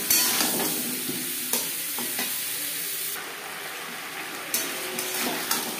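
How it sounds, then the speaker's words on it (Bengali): Diced papaya with salt and turmeric fries in a pan, a continuous close sizzle broken by several sharp scrapes and clinks of stirring. "লবণ হলুদ দিয়ে পেঁপে 4-5 মিনিট ভেজে নেব"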